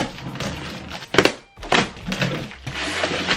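A cardboard box being cracked open for an unboxing: a few loud, close thumps and tearing rustles in quick succession.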